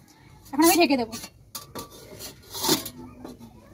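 A metal lid set down over a pot of simmering duck meat curry in a home kitchen gives a couple of close, bright clanks and rattles, followed by softer clinks, with no talking.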